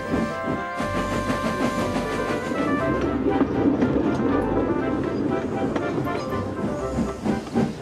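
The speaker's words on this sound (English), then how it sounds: "They chuffed gently into the station." A steam engine train chuffs, rumbling and hissing steadily with rhythmic clattering, backed by music, loud and continuous throughout.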